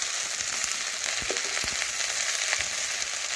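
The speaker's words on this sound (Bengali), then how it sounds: "এখন লবণ ও হলুদ দিয়ে নাড়াচাড়া করে ভেড়িগুলো আমি ভেজে নেব।" Vegetables frying in hot oil with salt and turmeric, a dense continuous sizzle with a few soft stirring knocks, close and fairly loud with no talking.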